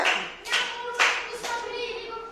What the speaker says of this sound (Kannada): ಚಪ್ಪಾಳೆ ಹೊಡ್ರಿಪ್ಪ ಎಲ್ಲಾರು ಇವಂಗ